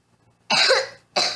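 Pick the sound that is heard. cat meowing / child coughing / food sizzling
child coughing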